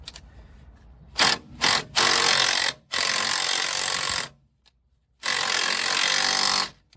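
A 1/4-inch Makita cordless impact driver with 15mm and 18mm sockets removing pre-loosened bolts on a Jeep XJ front end: several loud bursts of buzzing, hammering whir, two short blips then three longer runs with pauses between.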